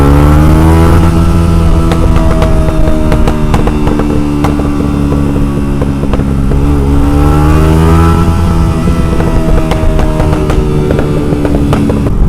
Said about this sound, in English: There's just something so satisfying about hearing your exhaust pop.